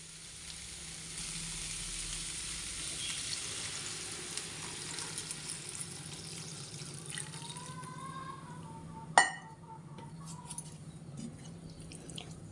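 Cauliflower masala fries in a pan with a steady, close sizzle as water is added, bringing a watery hiss and a brief sharp clatter near the end.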